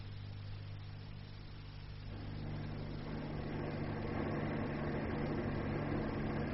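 Car engine in a suspense radio play, a steady low drone that swells and grows louder after a couple of seconds as the car pulls away, heard alone with no voices.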